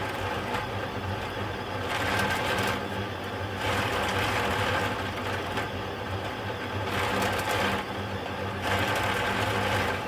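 A sheet-metal delta 3D printer whirs and buzzes continuously with rhythmic shifts in pitch and loudness, a busy mechanical drone running alone without voices.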